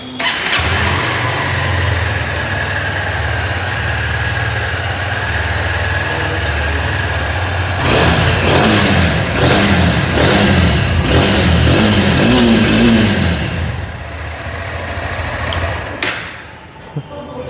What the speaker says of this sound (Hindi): तो यहाँ पे फिर भी मैं आपको एग्जॉस्ट सुना देता हूँ कैसा देखने को मिलता है।